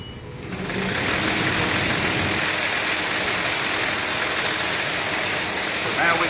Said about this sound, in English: So let me go fire this machine up.